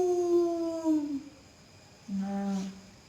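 Two long, drawn-out howling calls, the first sliding down and the second lower and steadier, stand for a lion's roar in a told children's story and sound like a voice imitating it, with a pause between them.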